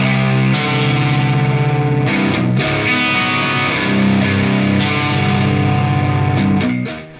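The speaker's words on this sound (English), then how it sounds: "the full-blown distorted tone, which is just the amp tone" A loud, heavily distorted baritone electric guitar plays sustained, fuzzy chords through an amp with a thick, gritty tone, continuous throughout with no talking.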